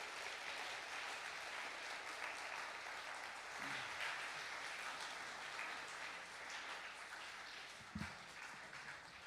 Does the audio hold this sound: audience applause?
yes